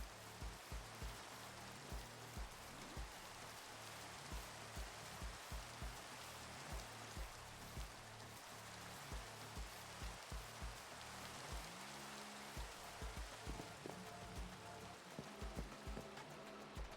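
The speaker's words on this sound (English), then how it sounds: "you were hearing some nice rain noises." Steady rain falls in the Minecraft video game, a dense continuous patter with scattered drop taps, with no talk over it.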